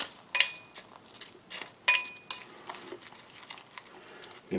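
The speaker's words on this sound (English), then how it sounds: "Give it a nice mix" A spoon stirs a Latvian Army freeze-dried rice ration in boiling water, giving a few sharp metallic clinks and soft scraping swirls, close and fairly quiet with gaps between strokes.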